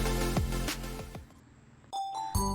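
Several bright chiming tones ring out in quick succession, fading briefly, then a clear ding sounds twice near the end.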